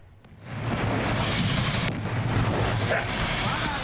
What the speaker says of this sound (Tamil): சிலிண்டர்கள் ஒன்றன் பின் ஒன்றாக வெடித்து சிதறியதால்